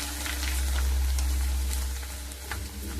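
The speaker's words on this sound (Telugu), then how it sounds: "వీటిని మంచిగా ఆయిల్లో వేసుకుంటే చూడండి ఎలా పొంగుతాయో" Corn chips fry in hot oil with a dense, continuous close-up sizzle and crackle, steady throughout and without talk.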